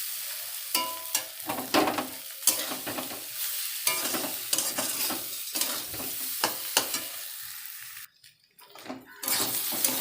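Sautéing in a kadai with vigorous rhythmic stirring, repeated scraping strokes over a continuous sizzle, close and loud, pausing near the end before the stirring resumes.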